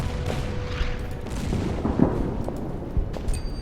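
Artillery fire in the Order of Battle wargame, set at Guandong: a dense, continuous low rumble with repeated muffled booms and blasts rolling underneath, steady and fairly loud throughout, with no voices.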